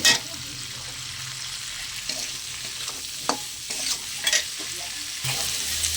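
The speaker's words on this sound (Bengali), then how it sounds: "এঁচড়টাকে আমি সিদ্ধ করে রেখেছিলাম, এবার অল্প করে লবণ আর হলুদ দিয়ে একটু ভেজে নেব।" Boiled jackfruit being fried in oil with salt and turmeric, a steady close sizzle broken by a few stirring scrapes and clinks of a utensil in the pan.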